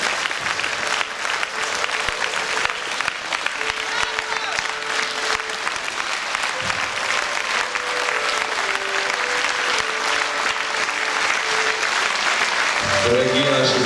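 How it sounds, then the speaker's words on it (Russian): Sustained, dense applause from a theatre audience at the finale of the play "Kabala svyatosh" at a festival in Vladimir, steady and loud throughout, with a faint voice speaking near the end. "Эти аплодисменты ваши."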